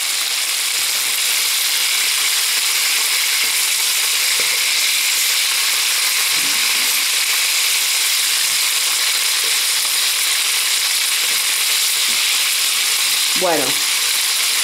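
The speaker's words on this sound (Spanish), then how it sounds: "el pollo tendría que estar sofriéndose un poco de más rato" Chicken sautéing with onion and garlic in a pan, a loud, continuous hiss of frying close up, with faint soft knocks and a brief word of talk near the end.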